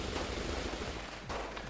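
Rapid, sustained gunfire from the visual novel game Rewrite rattles continuously through a dense wash of noise, with a brief lull near the end before the shooting resumes.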